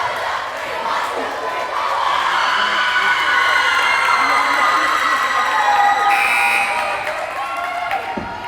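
Crowd at a Nantucket Whalers high school volleyball match against the Falmouth Clippers, cheering and shouting loudly and steadily throughout, with a buzzer-like tone and a commentator's voice mixed in.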